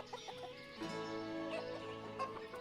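Chickens cluck and chatter in the village-building game Ostriv, a steady overlapping flock sound with occasional sharper calls, heard alone without talk.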